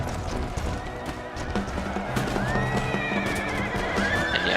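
Cavalry horses whinny and neigh amid clattering hooves in an Empire: Total War battle, several shrill rising calls over busy galloping and musket-battle clatter, with a voice faintly underneath.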